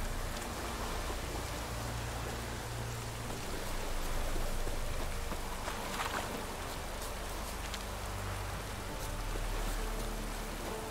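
Steady rain falls in The Witcher 3: Wild Hunt near an abandoned, ruined tower, a continuous dense hiss with a low rumble beneath, even and unbroken throughout, with no voices.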